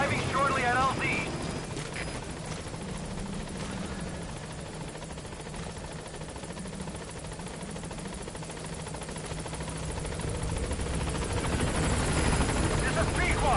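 A helicopter in the Metal Gear video game arrives at a landing zone, its rotor chop and engine roar steady and prominent throughout while a radio voice speaks over it.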